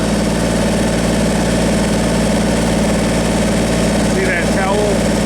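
A tractor engine idles loud and close in a steady, unbroken mechanical drone with low vibration, while a person speaks briefly over it near the end.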